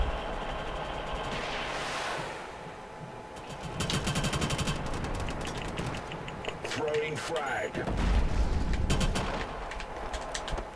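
Turret gunfire in the Killzone Shadow Fall multiplayer video game, rapid repeated bursts mixed with other battle sounds throughout, moderately loud under excited talking.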